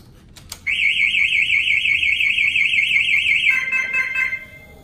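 After a brief click, a loud electronic motorcycle alarm warbles rapidly for several seconds, then drops in pitch and fades out.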